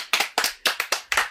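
Bare hands clap in a quick uneven rhythm, about seven sharp close slaps grouped in pairs, loud and alone with no talk over them.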